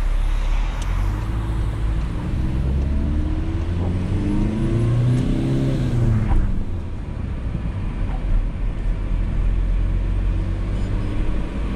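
A manual-transmission car pulls away in first gear during a driving test, its engine rising in pitch over a steady wash of road and cabin noise. The sound is loud and continuous throughout, with no talking.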